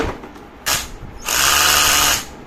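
Ratcheting clicks from tightening the chuck of a cordless drill, two close bursts, a short one followed by a longer steady ratchet lasting about a second.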